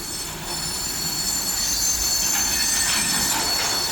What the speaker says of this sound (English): Got this Canadian Pacific train